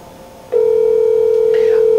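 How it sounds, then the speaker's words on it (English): A phone calls into a tactical communications box. After brief quiet, a loud, steady dial tone starts abruptly and holds, and a faint voice is heard in the background. "So if I take my phone and call into the box here,"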